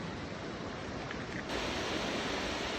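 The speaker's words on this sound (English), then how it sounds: "this is Mist Falls. It's actually a really cute waterfall. And this whole nice river." Mist Falls waterfall and river in Kings Canyon pour in a steady, dense roar of rushing water that grows a little louder partway through, alone without speech.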